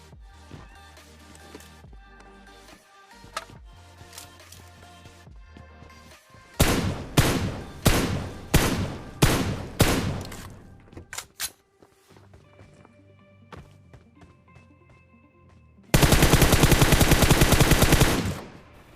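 Shots from a Kar98 sniper rifle in a shooter game ring out as a series of loud, evenly spaced cracks, with scattered quieter gunfire around them and a dense, loud burst near the end.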